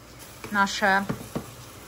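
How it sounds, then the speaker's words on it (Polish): Button mushrooms frying in a pan over maximum heat give a steady, faint sizzle throughout, with a couple of short voiced sounds rising over it. "Pieczareczki na maksymalnym ogniu podsmażam, bo ja chcę, żeby one mi się zarumieniły."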